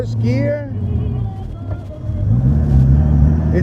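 1934 Jaguar S.S. 1 pulling away in first gear on back roads, its engine note climbing and settling in close cabin perspective, with someone talking over the motor.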